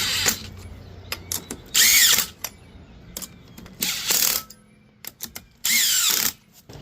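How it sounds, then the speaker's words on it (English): A DeWalt power tool snugs trailer wheel lug nuts in a crosshatch pattern, giving several short bursts of whirring, ratcheting impact, each lasting about a second, separated by quieter clicks and handling noise. "I can use Mr. DeWalt just to snug these things up very carefully."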